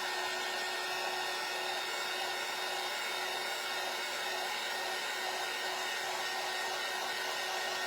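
A hair dryer blowing on a wet pumpkin craft, a steady loud whirring hiss with a constant motor whine, unbroken for the whole stretch.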